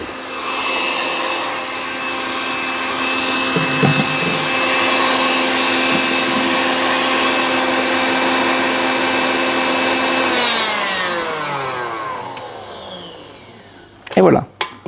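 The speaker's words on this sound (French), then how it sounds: "il vaut mieux avoir un batteur à la maison" An electric hand mixer whirs steadily while whipping egg yolks for a raspberry sponge roll cake, its motor loud and continuous for about ten seconds before winding down and stopping, followed by a few clinks at the end.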